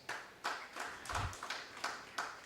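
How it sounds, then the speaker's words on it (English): Audience applause at an annual insurance conference, faint sparse clapping with a few distinct claps in a loose rhythm, sounding like only a handful of people. "Let's give them a round of applause."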